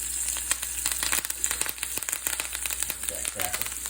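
A flounder fillet pan-fries with thyme sprigs, giving a continuous close sizzle dotted with irregular crackles and pops that grow busier toward the end.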